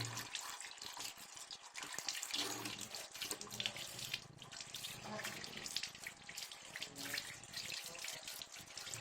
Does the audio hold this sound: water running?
yes